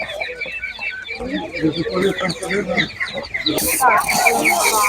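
Chickens cluck and chatter steadily at an outdoor animal market in Khryplyn, with a rooster-like call and a burst of hiss near the end, under a general crowd murmur.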